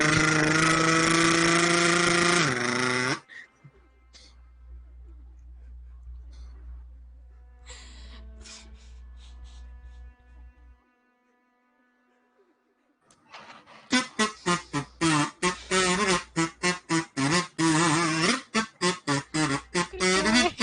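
A human voice buzzes and sputters in imitation of a motorboat engine, a long droning rumble at first, then a fast series of choppy, loud putters toward the end, with breathy gasps between.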